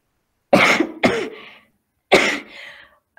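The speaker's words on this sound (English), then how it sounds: "you'll be hearing uh, a lot of sneezing and coughing" Three sharp, close coughs from a person with flu, in two quick bursts, the first pair back to back and a third after a short pause, with silence between.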